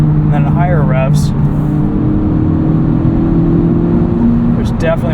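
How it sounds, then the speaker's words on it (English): At higher revs, the resonator-deleted exhaust of a 2023 Honda Civic Type R gives a loud, sustained engine drone with a steady tone, while a voice speaks briefly at the start and again at the end. "there's definitely more exhaust noise. A little bit louder."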